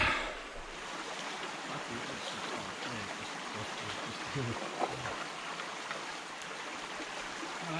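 Gold pan sloshed and swirled in a stream while searching for gold in blue clay, giving a steady, near wash of moving water with small splashes and faint talk in places.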